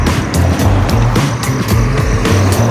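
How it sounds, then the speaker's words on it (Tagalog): Cars pass on a newly opened diversion road in Dasmariñas City, giving a loud, continuous engine and tyre roar with pulsing swells as vehicles go by close at hand. "Ayan ang mga sasakyan na galing yung Dasma."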